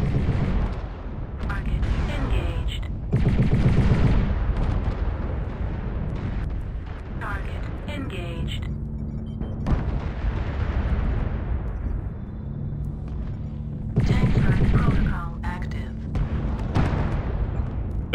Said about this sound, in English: Tank strike initiated.